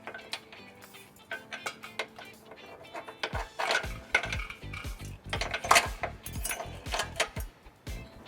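Carriage bolt and metal plate fished on wire through a 2019 Ford Taurus frame, making scattered metallic clinks, scrapes and rattles that grow busier and louder partway through, close up with no talking.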